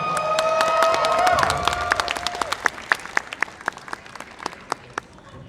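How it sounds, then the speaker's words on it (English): Audience applause at a cosplay contest, a full burst of clapping that swells early then thins into scattered individual claps as it fades, with a bright sustained tone briefly ringing over the start. "Please give a big round of applause to Kawaii Ringo."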